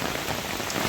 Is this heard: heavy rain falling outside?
yes